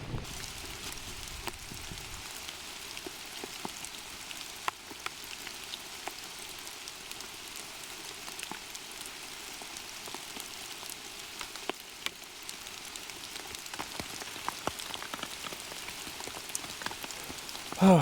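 Steady rain during a thunderstorm at a campsite, pattering continuously on surfaces nearby with scattered louder drips throughout.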